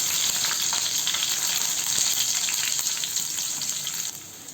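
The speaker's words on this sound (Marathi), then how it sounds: "लसणाचा कलर बदलेपर्यंत आपण परतायचं" Garlic sautéing in hot oil with bloomed cumin in a frying pan, a dense continuous hiss of sizzling close up that eases slightly at the end, with no talking.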